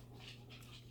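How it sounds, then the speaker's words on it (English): Dog whining indoors, a few soft high-pitched whimpers over a steady low hum, faint and close. "The dog who cries and whines, world's whiniest dog"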